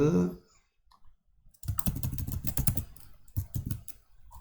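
Computer keyboard with the Enter key pressed over and over while a document template is tidied, a near, dense run of clicks that starts after a brief quiet pause and continues steadily to the end.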